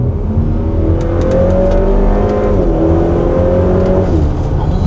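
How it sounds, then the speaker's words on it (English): Hybrid turbocharged 400 hp Honda Accord revving loudly up through the gears, its close engine note climbing and dropping with quick shifts, steady and continuous with no talk. "It shifts pretty quick for it being an Accord"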